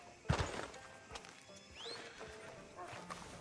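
A horse in a video game whinnies and moves, a sharp thump and neigh near the start followed by softer hoof clops and rustling, with a voice speaking in the background.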